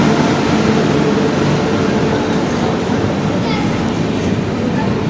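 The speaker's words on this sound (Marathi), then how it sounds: "माझी ट्रेन आली." A passenger train arrives at an Indian railway station with a loud, dense rumble and rattling wheels, mixed with busy platform noise and people talking nearby.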